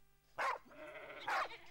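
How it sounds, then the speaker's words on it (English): Sheep and sheepdogs at the Stockmans Hall of Fame outback show give two loud, close, bleat-like calls about a second apart over a faint background hum. "There are sheep and sheepdogs and reluctant horses."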